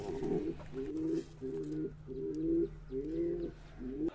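Pigeons in a coop coo in a steady repeating rhythm, about six low, rolling calls heard close and clear with no talking.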